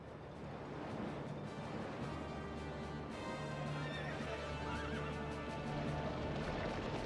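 Horses pull the Egyptian pharaoh's chariots in pursuit of the Israelites, with a dense, continuous clatter of hooves and occasional whinnies filling a loud, busy mix.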